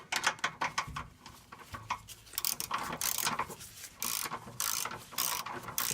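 A ratchet wrench torques down a bolt on a GM 4L80E automatic transmission installed in a truck or van, with rapid bursts of loud, close clicking that pause and resume.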